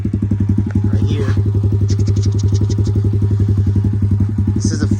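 Single-cylinder four-stroke dirt bike engine idling close by, a steady even thumping putter with light mechanical clatter and no break in rhythm.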